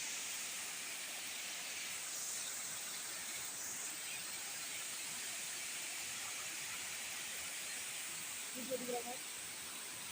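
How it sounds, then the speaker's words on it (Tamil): Waterfall at a bathing spot, a steady broad rushing hiss of falling water filling the whole stretch, constant and fairly distant, with a brief faint sound near the end. "இதான் அருவி."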